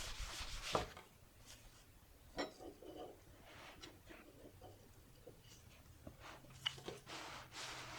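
A cloth buffs a scratched black Chromexcel leather boot, producing soft, intermittent rubbing swishes with a few brief scuffs, faint and close, with no voices.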